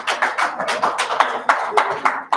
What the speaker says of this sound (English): Can we give DP a round of applause?